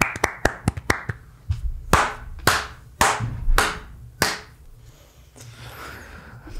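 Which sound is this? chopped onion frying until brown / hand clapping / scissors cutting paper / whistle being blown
hand clapping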